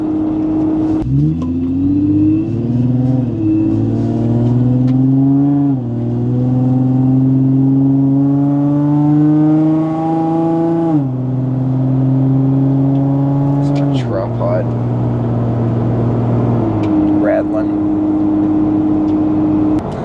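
Interior drone of a car on the road, loud and steady, with the engine note rising through several gear shifts and easing off near the end.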